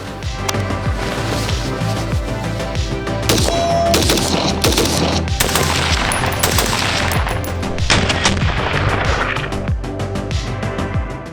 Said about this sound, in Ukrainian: Ще декілька пострілів.